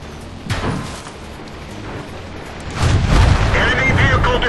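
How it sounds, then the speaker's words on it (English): An enemy tank blowing up in a tank battle game, heard as a sharp bang followed by a heavy, rumbling explosion that swells and lingers near and loud. "Enemy vehicle destroyed."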